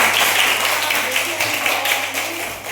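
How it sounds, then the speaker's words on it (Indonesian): Children in a classroom clap together in a steady, dense burst that lasts the whole moment and sounds fairly close. A voice may be talking faintly underneath. "Berikan tepuk tangan dulu."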